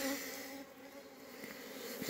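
Honeybees drone around an open hive while a frame is lowered back inside, a faint and steady close buzzing that carries on unbroken throughout.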